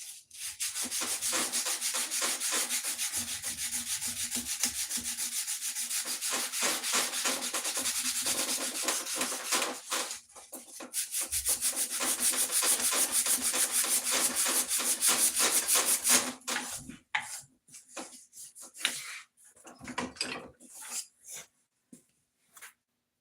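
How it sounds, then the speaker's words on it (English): Continuous rhythmic sanding of wood, rapid back-and-forth scratchy strokes, close and steady, pausing briefly midway before slowing into scattered strokes at the end. "What I'm probably going to do is a little bit of sanding."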